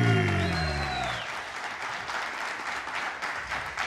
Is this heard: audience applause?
yes